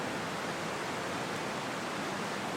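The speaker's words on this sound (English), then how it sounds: "So we're in the back now, and you've got this amazing waterfall" A huge waterfall roars in a large cave, a steady, dense wash of rushing water that stays loud and unchanging throughout.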